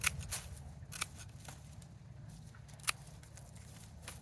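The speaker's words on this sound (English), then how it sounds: "I am going to go ahead and snip off all of the ginger tops" Scissors snip off ginger tops and roots outdoors in a garden harvest setting, a handful of quiet, crisp clicks scattered irregularly over a low steady background hum.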